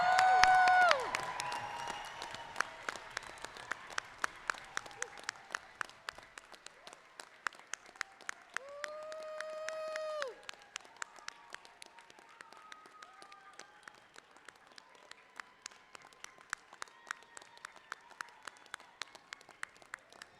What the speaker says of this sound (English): Please stand and applaud our graduates.